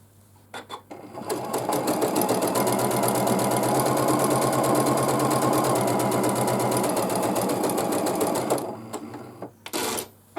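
Sewing machine joining pairs of 5-inch quilt squares for a baby quilt, a loud rapid clatter of stitching running steadily for about seven seconds, with a few brief clicks before and after.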